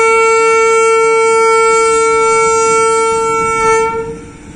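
Sabarmati Express passenger train hauled by an electric WAP-7 locomotive, a loud sustained horn blast that holds steady for about four seconds and then fades as the train rumbles past.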